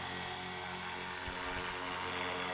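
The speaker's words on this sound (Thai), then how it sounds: "เดี๋ยวผมจะเอาเครื่องลงเองด้วยตัวผมเองนะฮะ" An AirWolf 450 RC model helicopter flies in to land over a grassy field, its whining rotor and motor buzzing steadily and loudly throughout, with a few low thumps near the middle.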